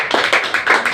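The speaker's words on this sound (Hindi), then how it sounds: "सर के लिए ताली होना" Short burst of hand clapping from a small group at an indoor gathering, a few quick claps close by with no talk.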